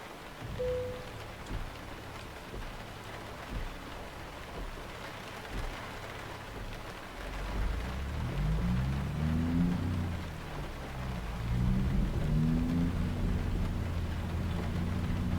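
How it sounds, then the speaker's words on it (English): Steady rain hisses across the whole stretch in American Truck Simulator, with a low truck engine drone swelling and shifting pitch in the second half. "Oh, rain."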